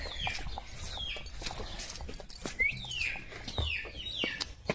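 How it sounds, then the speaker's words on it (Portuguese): Chickens on a farm giving short rising clucks and calls, several overlapping, fairly faint against background rustle and a few thumps. "A gente também vai mostrar pra vocês as galinhas"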